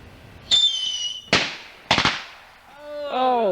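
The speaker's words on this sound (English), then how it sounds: "Here goes Sean with the bomb, and we'll be right back when he sets that off" A homemade firecracker bomb goes off outdoors as several sharp bangs and crackles. A rising whistle-like tone follows.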